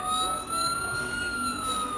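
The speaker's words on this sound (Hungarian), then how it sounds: "Szirénázik a tűzoltó autó." A wailing fire engine siren holds a steady rising and falling tone, loud and continuous with a motor hum beneath and no talk.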